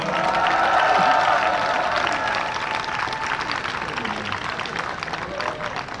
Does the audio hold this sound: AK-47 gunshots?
no